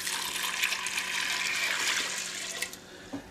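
Water pours steadily into a pot of rinsed pinto beans with a bright splashing hiss that holds for a few seconds, then tapers off with a small clunk at the end.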